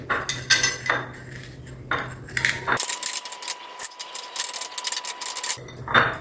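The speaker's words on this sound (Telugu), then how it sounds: "ఒక గిన్నె తీసుకుని చక్కగా ఇలా అదిమి పెట్టేసేయండి బాగా ప్రెస్ చేయండి" A metal bowl clinks and scrapes against a pan in a few sharp knocks and rubbing sounds as it presses down vermicelli for a sweet dish, close by, with no talking.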